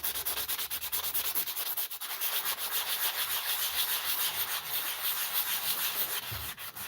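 A wooden lighthouse carving being sanded with a rough-grit drywall sanding screen, a close, continuous abrasive rasp in rapid back-and-forth strokes with a brief pause, no talking.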